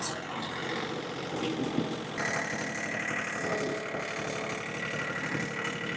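A John Deere 3520 tractor engine runs steadily with a continuous mid-range drone, close and constant, used for hauling firewood, with no talk over it.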